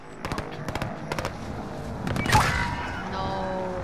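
Gunfire in Call of Duty Modern Warfare: a rapid run of sharp, evenly spaced shots, then a louder, rumbling burst that fades into a low background roar.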